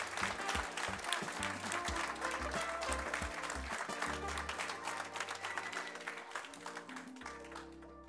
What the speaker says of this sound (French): C'est une ovation.